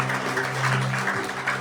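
A church congregation claps in a continuous, fairly even rumble over sustained background music, with no clear speech on top.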